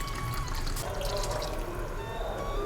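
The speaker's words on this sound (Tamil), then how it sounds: "இப்போ இதில் மிக்ஸி ஜாரை கொஞ்சம் போல் அலசி தண்ணி சேர்த்துக்கலாம்." Water from a rinsed mixer jar pours into a simmering chickpea kadala curry for Kerala puttu, a steady liquid trickle with drips running continuously at moderate level, no talking.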